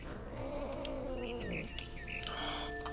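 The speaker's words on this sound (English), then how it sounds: "Somebody recorded a very angry kitty." An angry cat in the video game What Remains of Edith Finch, heard as quiet, strained, wavering yowls and squeals over a low ambient hum.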